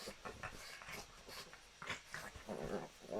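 Two pugs play together on a bed, giving off soft growls, pants and small whimpers in uneven bursts, close by and fairly quiet, with no talking.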